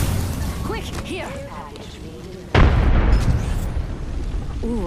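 A frag grenade goes off in a first-person shooter game, a single loud, close blast about halfway through, followed by a sustained rumbling roar, with a character's voice talking before it.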